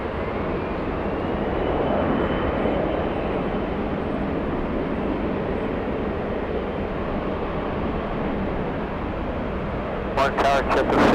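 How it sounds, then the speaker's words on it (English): An Embraer E175 jet takes off at LAX with a steady, loud, broad roar that builds slightly and holds throughout, with a burst of rumble at the end. "All right, let's go for the next takeoff. It's a little E175"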